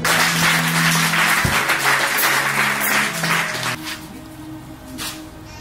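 A church congregation cheers and applauds the Lord, a broad wash of clapping and voices over sustained organ-like tones, thinning and fading somewhat toward the end.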